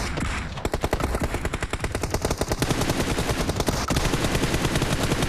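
Automatic gunfire in the mobile battle-royale game PUBG Mobile: rapid, evenly spaced shots in sustained loud bursts, close by, with only a short pause early on and no talk.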